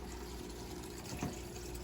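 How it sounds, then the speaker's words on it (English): Water from an Eheim 2217 filter's spray bar trickling down the glass panel of a turtle and betta aquarium, a faint, steady low-flow burble with a brief louder splash midway. "running water down the glass panel just to keep the water flow pretty low"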